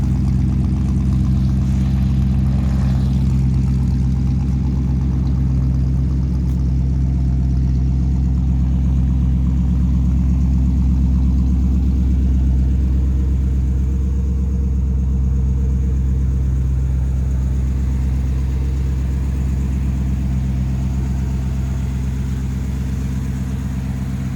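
A 1955 Chevrolet Bel Air convertible with dual exhaust idles steadily, giving a loud, deep and even burble that runs without a break for over twenty seconds with no talk over it.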